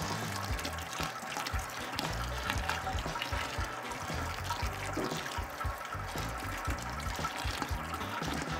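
Pump pushing water through a small flow-control valve to rinse the grain bed during sparging of a pastry stout on a G30 brewing system, a steady close rushing and trickling that runs unbroken throughout, with no voices.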